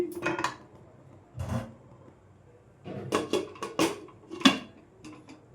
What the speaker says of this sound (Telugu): ఇప్పుడు మొత్తం కలిపేసుకొని మూత పెట్టేసుకుందాం అండి.